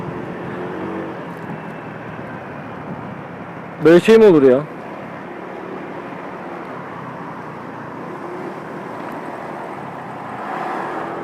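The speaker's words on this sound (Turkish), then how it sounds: "Böyle egzoz mu olur ya? Sese bak sese." A loud, steady engine exhaust roar runs throughout, with someone speaking briefly partway through.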